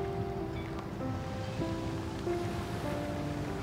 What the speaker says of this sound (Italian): le onde che sbattono contro le scoglie